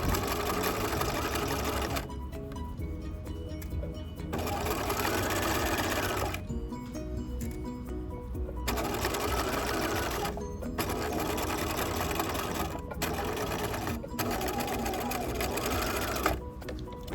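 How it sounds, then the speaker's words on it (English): Sewing machine edge stitching a blouse keyhole back, loud rapid mechanical chatter in several long bursts separated by short pauses, close up. "I'm edge stitching up. So I'm adjusting even as I go."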